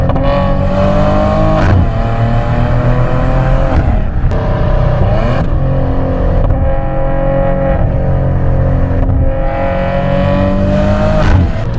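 A Maserati Ghibli with a Ferrari-built V6 revs hard during spirited driving, loud and close, the engine climbing and dropping repeatedly through gear changes and corners.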